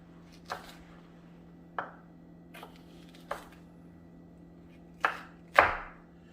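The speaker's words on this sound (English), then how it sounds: "so I cut them long ways, almost like a julienne" Knife chopping fresh jalapeños lengthwise on a cutting board, six separate close, crisp knocks at uneven intervals with a steady low hum underneath.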